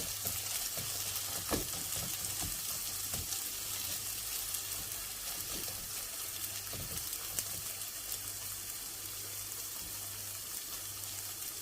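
Menemen sizzles quietly in a pan with a soft, steady frying hiss and a few faint stirring scrapes.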